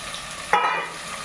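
Pumpkin and snake gourd pieces fry on high flame, with one quick stirring scrape rising over a continuous soft sizzle.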